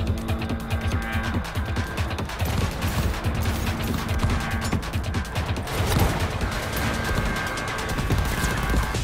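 Rapid gunfire from a Cyberpunk 2077: Phantom Liberty firefight plays continuously and loudly, with dense bursts of shots over a busy mix of mechanical clatter and impacts throughout.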